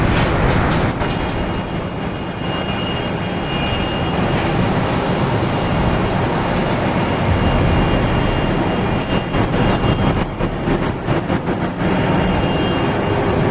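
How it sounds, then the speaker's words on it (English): A JetBlue Airbus A321 arriving at Boston Logan from LAX makes a loud, steady broadband roar that holds throughout, with slight fluttering in the later seconds and no voices. "Is JetBlue coming in from LAX, an A321,"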